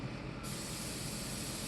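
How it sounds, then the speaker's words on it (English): Cooking spray hisses onto a 360 bakeware baking pan in one continuous burst that starts abruptly and holds steady, close and fairly even, with no talking. "This is another 360 bakeware pan that I'm going to do a quick pan spray on."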